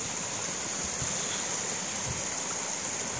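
Construction-site discharge water from the Terzo Valico works pouring into the Traversa stream, a steady broadband rush of flowing water that stays constant and fairly close throughout, with no voices.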